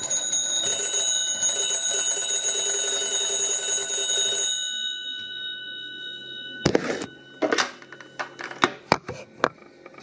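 Bells of a 162 magneto telephone ring loud and close in a continuous metallic clangor for several seconds, then stop, leaving scattered clunks and handling knocks.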